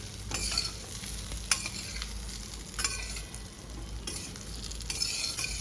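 Stuffed gunda curry seasoned with Kashmiri red chili is gently stirred in a pan, giving soft periodic scraping strokes over a quiet, steady sizzle with no talking.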